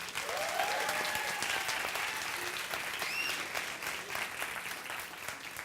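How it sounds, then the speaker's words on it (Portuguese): Sustained applause from an auditorium audience for the band, a broad even wash of many hands clapping with a few faint whistles and cheers mixed in, moderately distant. "Queria uma salva de palmas à nossa sensacional banda."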